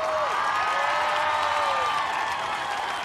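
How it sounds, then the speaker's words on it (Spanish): A crowd at a drag queen gala in Maspalomas applauds and cheers, with continuous clapping and high voice-like whoops sliding over it throughout. "Que se oiga ese fuerte aplauso"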